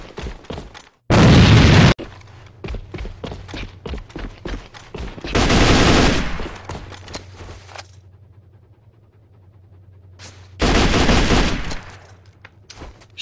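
Grenade explosions in the video game AVA: three loud, broad bursts about four to five seconds apart, each lasting around a second, with quieter clicks and mechanical handling sounds between them.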